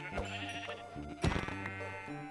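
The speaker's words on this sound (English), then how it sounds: "I had to find some sheep and take them out to get their wool" A sheep bleats in the Minecraft Pixelmon video game, one short wavering call rising over steady, tonal background game sound.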